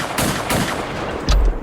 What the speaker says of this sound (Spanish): Empezaron entonces los tiros.